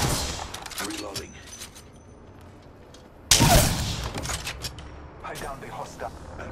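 A sudden, loud burst of rapid gunfire erupts midway through a ranked match in a video game shooter and keeps rattling in bursts, with voices and other game sounds around it.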